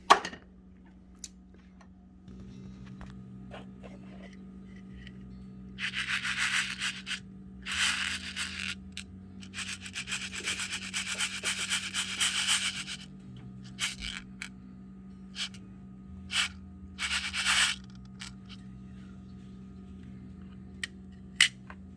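Small pistol primers are shaken and rattled in a plastic flip tray for a priming tool, giving several bursts of dry, gritty rattling separated by quiet pauses over a steady low hum.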